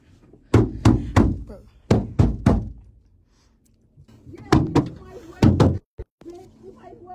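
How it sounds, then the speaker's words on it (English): Knuckles rap from inside a car trunk in quick bursts of two to four hard, hollow thunks, loud and close, with pauses between groups and a muffled voice in the gaps. "Is she knocking on the trunk?"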